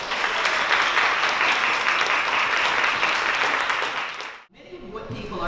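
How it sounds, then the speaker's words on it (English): An audience breaks into loud, sustained applause, many hands clapping steadily for about four seconds before it cuts out abruptly, followed by quieter room sound. "that deserves a round of applause"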